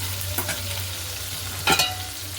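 Oil sizzles steadily under fish frying in a pan, with a low hum beneath and two short scraping clatters as pieces are moved in the pan.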